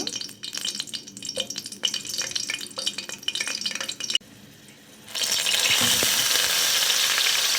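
Green chilies drop into a generous amount of hot oil for a fish curry, giving a loud, steady broadband sizzle that swells up after a brief quieter moment and runs on alone with no talk.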